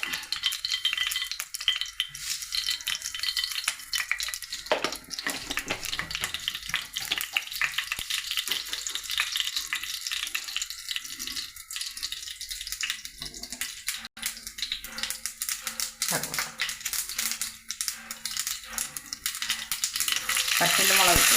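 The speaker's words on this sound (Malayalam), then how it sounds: "കടുക് വറക്കാം." Mustard seeds frying in a pan for pineapple pachadi, a dense crackling sizzle with spattering pops that runs continuously and up close, with faint background noise.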